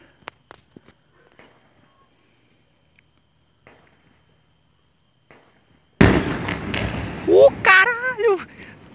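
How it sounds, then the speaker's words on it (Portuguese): A bomb explodes at night during a bank robbery in Colméia, Tocantins. After several seconds of near silence with faint clicks, a sudden loud blast hits, followed by a raised, agitated voice. "Outra bomba. Agora foi no banco."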